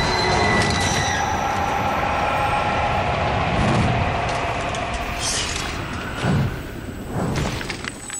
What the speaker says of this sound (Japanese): それは新幹線だよ！